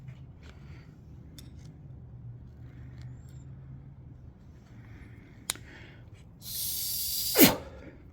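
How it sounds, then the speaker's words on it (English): Carb cleaner sprayed from an aerosol can into a carburetor part from a 1936 Ford 8BA flathead engine, a loud hissing burst of a second or so near the end, after quiet rustling in a barn. "I'm gonna go spray this out with carb cleaner"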